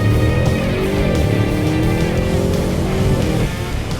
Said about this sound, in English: the car I've been wanting to drive as well, apart from the R8 GT, the RS7 Performance